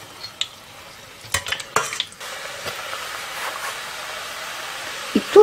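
Chrust faworki pastries fry in hot oil with a faint steady sizzle, broken by clattering pokes and stirring knocks of a utensil against the pan, close and quiet.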